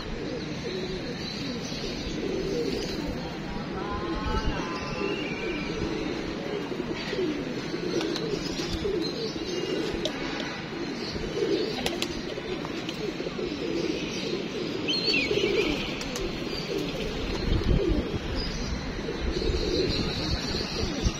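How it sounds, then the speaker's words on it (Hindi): Pigeons cooing outdoors, soft repeated low coos scattered over a steady background murmur, with some faint chirps mixed in. "ये देखें वो भी मस्तियों में आए हुए हैं कबूतर"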